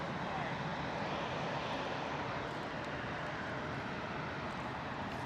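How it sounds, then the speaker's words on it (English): British Airways Boeing 787 jet departing, a broad distant roar of jet engines that stays steady and faint throughout, a little softer toward the end. "British Airways, Boeing 787-800 is our next departure,"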